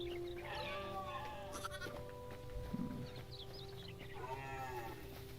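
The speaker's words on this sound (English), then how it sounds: "Oh, it might be a sheep." Sheep bleat in the Hytale video game, two wavering calls, one early and one near the end, over a steady ambient game soundtrack with a brief rustling thud in between.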